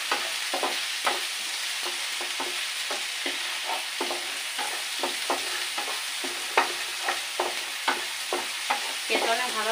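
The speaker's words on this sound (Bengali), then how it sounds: "এটাকে আমি ভাজি করে নিয়ে কড়াই দিয়ে দেবো" Tempering for papaya dal fries in a wok, with a continuous close sizzle punctuated by rapid, regular spatula stirs and scrapes; no voices.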